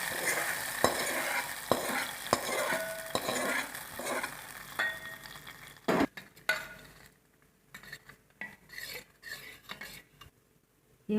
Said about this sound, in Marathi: आता फोडणी केलेली आपण ह्या दह्यामध्ये टाकून घेऊ